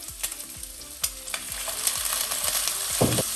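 Pork ribs fry and sizzle in a hot wok as Chinese cooking wine goes in, with a steady hiss, sharp crackles, and a few clattering stirs and scrapes up close.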